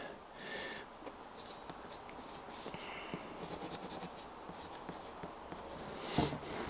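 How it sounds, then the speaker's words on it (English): Test results for a shed power installation are written down by hand on paper, a soft, continuous scratching of pen strokes at close range, with a louder rustle near the end. "So I'll write my results down."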